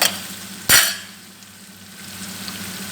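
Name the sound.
frying onion, garlic and green chili in a pan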